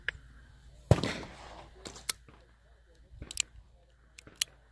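A Model 17-3 .22 revolver fires one sharp, loud crack near the start, followed by quieter clicks and handling noises outdoors, with a little talk in the background.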